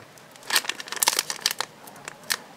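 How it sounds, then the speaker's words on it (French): A Pokémon card booster pack is torn open by hand, giving a run of sharp, close crinkling and tearing bursts of foil wrapper, irregular and quick, with no talking. "on va ouvrir les 2 derniers boosters"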